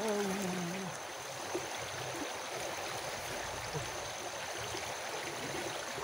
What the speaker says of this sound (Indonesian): Nah, ini dia sungainya kawan.